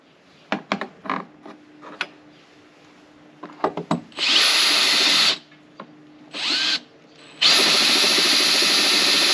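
Power drill boring pilot holes for door struts, starting with scattered clicks and short taps, then several loud sustained bursts of whirring separated by brief pauses.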